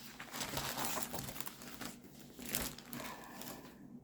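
Packaged papercraft items from a holiday paper pack, including a pad of thin scrapbook papers, being unwrapped, with close crinkling and rustling of plastic and paper in irregular bursts and no talking.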